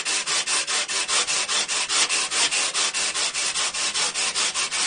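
A homemade electric planer knife is rubbed back and forth on sandpaper by hand, about twenty-four steady rasping strokes in a regular rhythm, close and loud with no talking.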